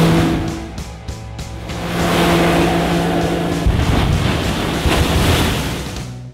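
An Evinrude E-Tech outboard boat motor idles at a dealership, a steady loud engine drone with a low throbbing hum and hiss throughout.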